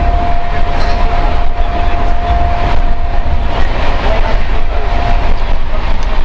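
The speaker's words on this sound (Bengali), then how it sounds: "আমরা খাচ্ছি, আর ট্রেন ঝড়ের গতিতে দৌড়াচ্ছে" The Sealdah Puri Duronto Express rushes along at high speed, heard from inside a coach as a loud, continuous rumble and roar with rail clatter and a faint steady tone.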